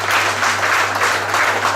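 A loud, steady round of applause from an audience at a French awards ceremony, dense clapping filling the room evenly with a low constant hum beneath it and no voices over it.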